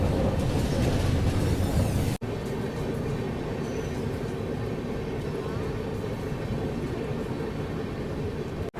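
Mithila Express passenger train rolling into Lakhisarai Junction in Bihar, a steady loud rumble and rattle of the running carriages heard from on board, with a brief cut near the start.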